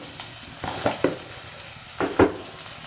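Onion, green chili, turmeric and ginger frying in a pan for a brinjal curry, stirred with a spoon: a low sizzle with a few sharp scraping clatters of the spoon against the metal, close and without talk.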